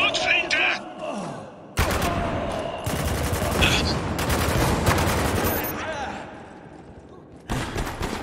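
Gunfire in the Spec Ops: The Line video game, with a shotgun-wielding enemy, comes as bursts of loud, dense shots and impacts across several seconds, broken by brief pauses, with a voice shouting over the fighting.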